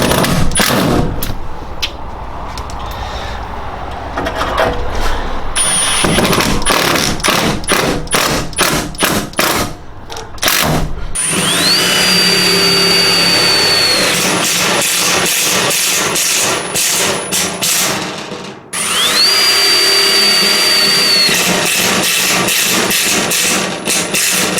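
A Milwaukee M18 ONE-KEY FUEL impact driver runs in loud, close bursts of rapid hammering clatter over a whining motor, stopping briefly between several long runs.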